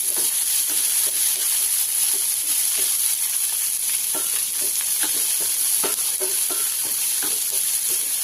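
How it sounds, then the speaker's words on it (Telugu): Onion slices and curry leaves frying in an oil-filled pan for a lady's finger curry, a steady close sizzle with repeated soft stirring scrapes throughout. "కొద్దిగా కరివేపాకు, 1 కప్పు ఉల్లిపాయ తరుగు కూడా వేసి కొంచెం కలర్ మారినంత వరకు వేయించుకోవాలి"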